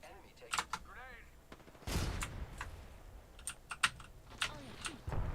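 Gunfire from the Apex Legends battle royale game crackles in several sharp bursts and single shots, mixed with clicky keyboard typing and game effects throughout.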